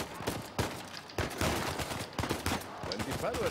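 Rapid bursts of Uncharted 4 gunfire crackle steadily, shots repeating in quick clusters with a busy, moderately quiet backdrop and faint voices.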